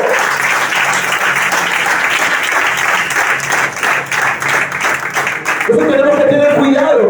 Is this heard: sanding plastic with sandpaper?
no